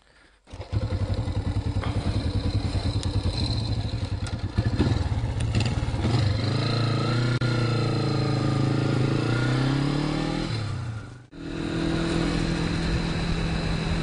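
A classic Honda CB450 'Bomber' motorcycle starts off and rides, its engine droning loud and close, revving up through the gears with rising pitch, dipping briefly at a shift before pulling again.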